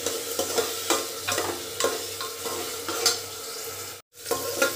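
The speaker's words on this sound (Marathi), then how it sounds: "एक कांदा बारीक घेतलेला आहे, तो टाकते. तो पण तेलामध्ये छानपैकी फ्राय करून घ्यायचा आहे आपल्याला" Chopped onion and pavta beans fry in hot oil, a steady close sizzle broken by rhythmic spatula stirs and scrapes roughly every half second, with one brief gap near the end.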